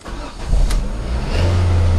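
A Ford Focus fitted with a factory LPG kit cranks briefly and fires up, then settles into a steady, close idle rumble with no voices.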